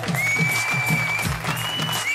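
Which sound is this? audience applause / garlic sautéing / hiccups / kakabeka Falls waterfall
audience applause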